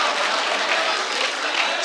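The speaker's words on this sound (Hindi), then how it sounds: "एक बार जोरदार तालियों से इस्तकबाल किया रहा है" Audience at a poetry recital breaking into loud, dense applause, a continuous wash of many hands clapping close by for the whole short stretch, with no talk over it.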